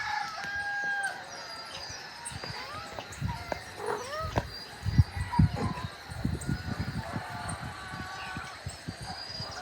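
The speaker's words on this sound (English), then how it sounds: "you have to listen to how many roosters are up here in the mountains" Many roosters crow at sunrise in the mountains, some near and some distant, with repeated crows overlapping. Clucking and other farmyard noise fill the background.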